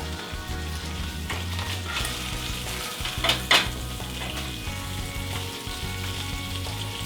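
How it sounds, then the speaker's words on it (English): Bacon sizzles steadily in a hot pan while a spatula stirs it, with a couple of brief scrapes and clinks against the pan standing out over the continuous close frying hiss. "Using a spatula, I gently stir the bacon in a clockwise direction."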